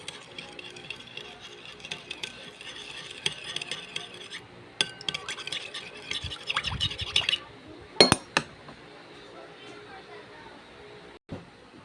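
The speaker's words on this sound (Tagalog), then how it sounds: "Haluin natin." Spoon stirring a calamansi and pepper marinade in a bowl, with soft clinks and scraping, faint at first and then a few louder knocks near the end, while a voice talks over it.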